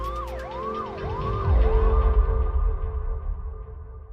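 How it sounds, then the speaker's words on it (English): Ambulance siren wailing in rising and falling sweeps as the vehicle speeds away from Nagpur toward Mumbai, with engine rumble building underneath, loud and with no voices. "All she could do was watch as the ambulance sped away with her son."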